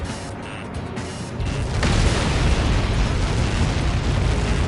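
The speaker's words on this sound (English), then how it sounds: "How many got caught in that explosion?" A missile impact in the Ace Combat 7 flight game sets off a big explosion, a sudden loud boom swelling into a sustained, dense rumbling roar that fills the rest of the moment.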